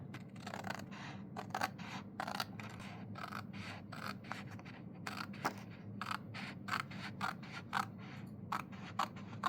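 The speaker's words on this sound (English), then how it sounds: "we are going to use our scissors to cut this" Scissors snip through a paper journal printable sticker sheet, with a steady run of short, crisp cuts close by and no talking.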